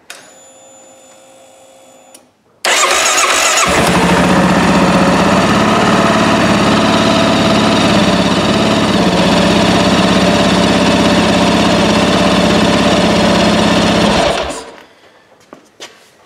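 A 2022 Kawasaki KLR 650 with a new lithium battery, a clicking then a starter catch into a loud steady single-cylinder idle held close for about twelve seconds before it shuts off.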